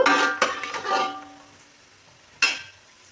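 Frying in a pan for egg biryani gives a short burst of sizzling and stirring scrapes, then quiets before a second brief hiss near the end.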